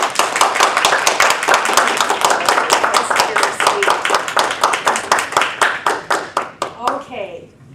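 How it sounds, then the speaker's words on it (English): A lecture audience claps for a speaker's introduction at a humanities center talk, the dense applause thinning into fewer, slower claps that fade out near the end. "give a warm applause"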